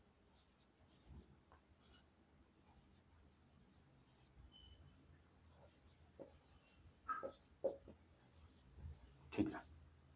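Pen writing by hand on paper while option strike prices are listed, with faint scratchy strokes and taps under quiet room noise, growing a little more distinct toward the end.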